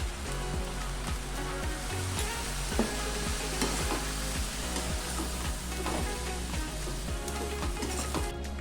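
Chicken fried rice fries and is tossed in a pan, a loud steady sizzle with regular scraping and clanking strokes of a spatula stirring the rice throughout, close up and without talk.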